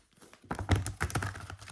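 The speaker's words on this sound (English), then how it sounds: "I just drop shuffle like that" Tarot cards being drop shuffled by hand give a quick run of soft, close-up papery taps and flutters lasting a couple of seconds, after a brief quiet start.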